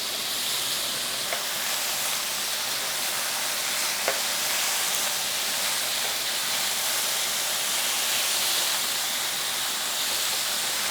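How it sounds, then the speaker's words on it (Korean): Garlic, onion and pepper stir-fry in a pan with beef brisket, giving a steady, even hiss of frying that stays close and constant, with only a couple of faint clicks from the utensil. "마늘도 같이 볶아주세요. 또 양파를 넣어주세요. 후추를 넣어주시고요."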